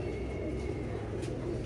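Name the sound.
aged pigeon cooing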